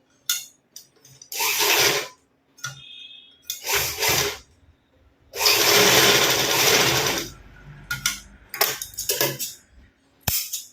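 Sewing machine stitching the side seam of a high-neck blouse, running in several short bursts of whirring with quiet pauses between, one longer steady run in the middle, close and clear with no talking.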